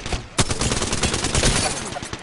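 Rapid gunfire from the Apex Legends video game, a dense burst of shots with a sharp crack near the start, continuing steadily throughout.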